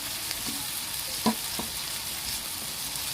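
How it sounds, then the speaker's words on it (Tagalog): Tomatoes sautéing in a pan for an ampalaya (bitter gourd) dish, a soft steady sizzle with a few light clinks of stirring, no voices. "Pakatasin muna natin yung kamatis bago ilagay yung palaya."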